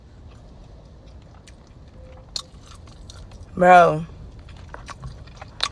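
Someone eats butter chicken from the restaurant Mild 2 Spicy with soft, close chewing and wet mouth clicks, and a short spoken word breaks in partway through.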